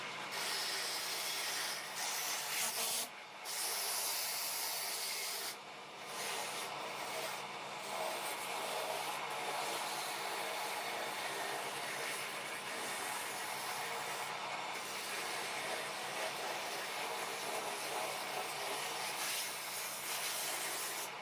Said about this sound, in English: Let's see if we can try and sand this thing without killing it.